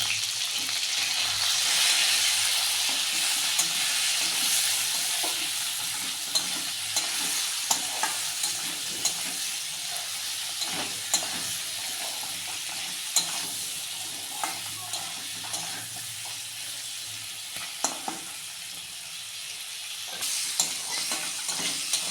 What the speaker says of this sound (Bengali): বন্ধুরা ভাজা ভাজা হয়ে গেছে।